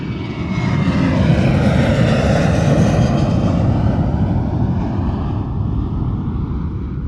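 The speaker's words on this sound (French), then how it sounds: "Donc là, on va décoller de Toulouse en piste 30 de gauche." Steady loud propeller aircraft engine drone from a flight simulator before takeoff from Toulouse, a continuous close roar that holds throughout with no talk.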